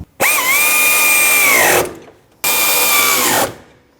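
A power tool fitted with a 10mm socket snugs a bolt during radiator replacement on a 2007-2017 Jeep Patriot 2.4L, whirring up in two close, loud bursts, the first longer than the second, each winding down with a brief pause between.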